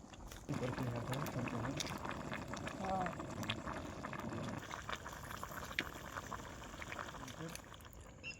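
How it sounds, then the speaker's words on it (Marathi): A pot of rice bubbling at a rolling boil outdoors by a river, a busy gurgling that fades partway through, with a person talking over it. "हे पहा मस्तपैकी उकळी फुटले"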